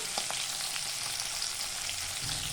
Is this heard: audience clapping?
no